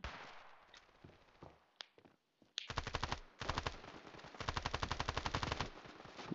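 Rapid automatic gunfire in the mobile shooter Standoff 2 rattles off in long, loud sustained bursts after a few quieter scattered shots, close and dominant with no talking.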